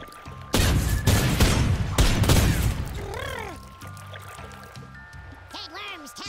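Buster bomb explosions in Worms Revolution crackle in a quick series of loud bursts, then fade into softer fizzing and chirpy game sound effects with a tonal hum.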